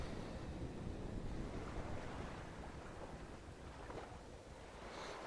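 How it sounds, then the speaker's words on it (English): Sea waves wash steadily in the video game The Last Door, a continuous low surf roar with wind noise, faint and uninterrupted, with no voices. "Followed by sea."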